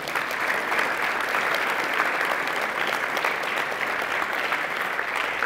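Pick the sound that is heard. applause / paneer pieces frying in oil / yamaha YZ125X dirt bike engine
applause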